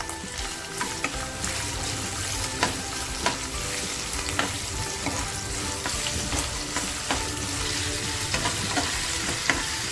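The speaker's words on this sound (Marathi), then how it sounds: "सोडे टाकते आणि सोडे छान परतवून देते" Dried prawns fry in hot oil in a heated kadai, a steady close sizzle broken by regular scraping clicks of a spatula stirring them, with no voices throughout.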